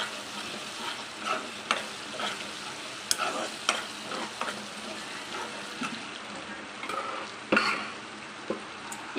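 Tomatoes with a pinch of asafoetida being stirred in a pan for mudda pappu, soft wet scraping and clinks of a spoon at an irregular pace over a quiet background sizzle, close and moderately loud.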